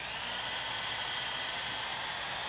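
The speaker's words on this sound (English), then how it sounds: "you just drill the head of the rivet off" Power drill grinding the head off a rivet on a fiberglass boat's rub rail: a steady, continuous high-pitched whine held at an even loudness throughout, close by.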